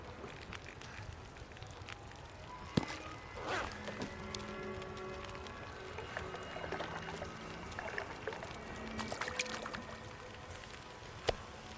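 Water pours out in the survival video game The Long Dark, a soft, faint trickle and gurgle running for several seconds, broken by small clicks and rustles.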